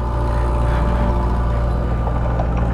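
A motorcycle engine drones steadily and loudly at close range while riding a badly damaged mountain road toward Mt. Pulag, a continuous rough hum with no break.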